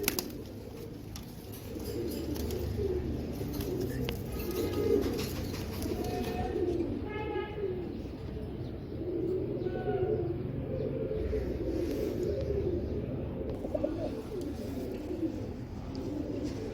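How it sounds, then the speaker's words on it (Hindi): Pigeons coo in soft, low repeated calls over a steady murmur of background noise, with a few brief chirps mixed in. "इमामदीन कबूतर, उस्ताद इमामदीन के, ये देखो।"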